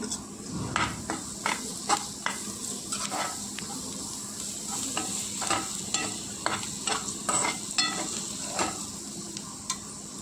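Green chilies sauté in hot oil for paneer bhurji, with a soft continuous sizzle broken by repeated sharp spatula scrapes and taps against the pan at an irregular, close rhythm and no voices.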